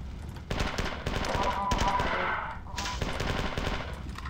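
Rapid automatic gunfire from the video game Marathon 2: Durandal, dense bursts of repeated shots filling nearly the whole stretch with a short pause midway, loud and close.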